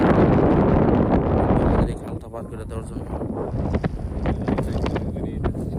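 Heavy wind buffets the microphone for the first two seconds, then eases to a lighter rush under a person speaking, near boats in the rainy season.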